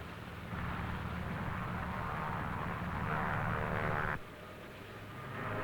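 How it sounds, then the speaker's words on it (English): Navy F6F planes being catapulted from an aircraft carrier's flight deck at sea give a loud, steady engine roar that swells and then cuts abruptly, leaving a lower rumble that builds again. "Navy F-6F mother control planes are catapulted from the carrier's flight deck"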